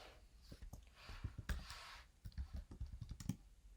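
Computer keyboard keys clicking in quick irregular bursts while code is typed into a Go project, close and moderately quiet, with brief pauses between runs of keystrokes.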